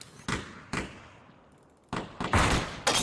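Sharp gunshots from an esports match in a competitive shooter, EPCL Below Zero 2019 NA qualifiers: several loud single cracks spaced apart, then a quicker cluster near the end, each with a short decaying tail.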